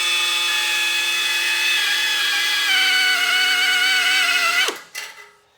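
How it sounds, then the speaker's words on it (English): A power drill fitted with a depth-adjustable cutter bores out a spot weld in sheet metal, giving a loud, steady, high-pitched whine that dips slightly in pitch partway through, then spins down abruptly and stops. "let's say we were drilling a spot weld"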